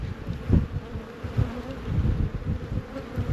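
Honey bees buzz inside a hive that is doing poorly under a weak queen, a steady low drone with fluttering swells and close passing wingbeats, with no talk.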